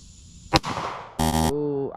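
A single sharp pistol shot at target practice, from a Glock 19 Gen 5 or Taurus G2C, cracks loudly with a short echoing tail, followed by someone speaking.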